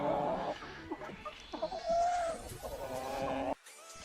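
Chickens cluck in a backyard flock, giving short, fairly faint clucks and calls close by with some light background noise and no talking.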